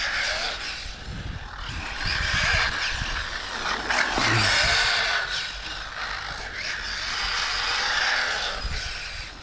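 A modified VS2 vehicle accelerating and pulling steadily, its engine a rough, sustained drone at moderate distance with a brief surge near the middle, no voices.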